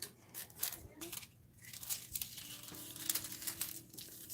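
Crafting foil is handled and crinkled close by, with soft, irregular rustling and crackling across the whole stretch and faint background noise.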